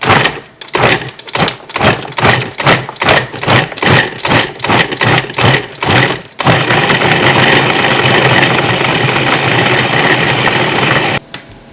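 A food processor pulses cold butter into flour for biscuits: about a dozen short, loud motor bursts in quick rhythm, then one long continuous whir before it stops.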